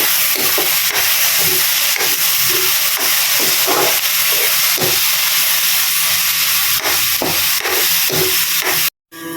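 Ground chili, curry powder, turmeric and salt stirred in a hot pan with a spoon, giving a steady sizzling hiss broken by repeated scraping strokes, close and continuous with no talk.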